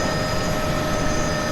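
A Bell 206B3 JetRanger helicopter engine runs with the throttle at idle, producing a loud, steady turbine whine over a low rumbling drone, with no voices.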